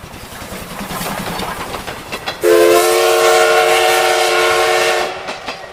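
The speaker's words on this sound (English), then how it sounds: "I think train is coming." A loud, sustained train whistle blares for a few seconds over the rumble and clatter of a passing train.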